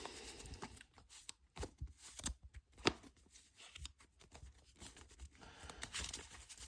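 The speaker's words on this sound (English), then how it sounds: "Let's give it a good shuffle." Trading cards from a Herald deck shuffled by hand again and again, giving quiet, rapid riffling and flicking bursts with brief pauses between passes, close and faint with no talking.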